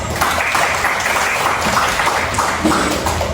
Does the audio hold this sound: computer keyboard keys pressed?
no